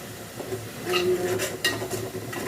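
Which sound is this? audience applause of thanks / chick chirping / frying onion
frying onion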